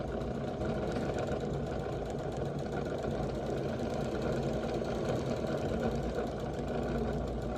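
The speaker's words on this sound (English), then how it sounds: "And now I'm going to sew, and I'm just guiding my fabric along the way to try to sew a straight line." Sewing machine stitching pillow fabric in a straight seam, a steady quiet mechanical whir with rapid needle rhythm running continuously, no talking.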